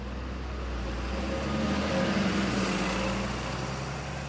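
A bus pulls away from a stop and drives off into town, its engine a steady low rumble that swells slightly mid-way and then holds under ambient traffic noise.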